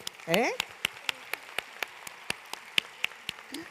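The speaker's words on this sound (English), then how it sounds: "please give them a big applause, because they deserve" Sparse, evenly spaced single claps from a few hands at a gastronomy conference, honoring students, about a dozen crisp claps after a brief voice at the start, with no full crowd swell.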